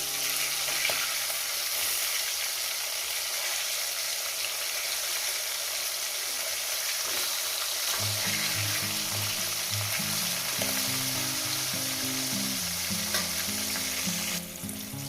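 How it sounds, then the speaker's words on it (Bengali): Rohu fish fries in oil with a loud, steady sizzle that runs unbroken through the whole stretch. A faint tonal melody joins the sizzle partway through, and no one speaks. "আস্তে করে ভাজবো মাছটা এক সাইড হয়ে গেছে অপর সাইডটা উঠিয়ে দেবো"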